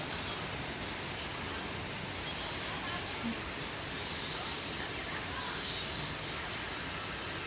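Heavy rain pours down as a dense, even hiss, fairly quiet and constant throughout, with slight swells in the higher wash near the end.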